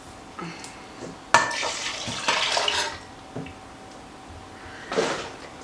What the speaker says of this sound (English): You're going to pour them into a mixing bowl gently.